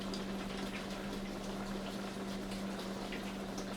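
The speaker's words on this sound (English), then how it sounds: "Rinse my hands off." Kitchen faucet running as hands are rinsed under it, a steady hiss of flowing water with a low hum beneath, close and unbroken.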